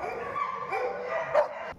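A dog at the Valley Animal Center shelter in Fresno gives short, whiny yips and a bark, close and fairly loud, with no talking.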